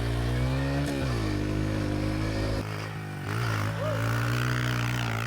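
A revived, formerly abandoned Honda dirt bike runs loud and close on a dirt track, its engine droning steadily with rising and falling revs and a brief dip partway through.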